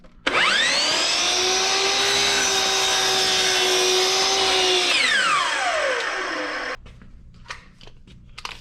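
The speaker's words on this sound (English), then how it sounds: "I'm just gonna trim this edge nice and flat." A power tool trims the top edge of a small wooden cabinet flat: a loud, steady high-pitched motor whine runs for about five seconds, then spins down, followed by a few faint clicks.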